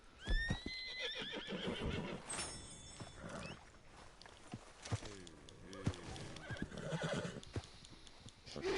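Horses whinny and neigh loudly several times amid clip-clopping hooves and snorts in the video game Red Dead Online, up close and lively, no talking.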